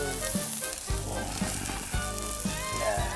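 Food frying in hot oil at an Azerbaijani family barbecue sizzles loudly and steadily, with a constant bubbling hiss and occasional soft thumps from stirring.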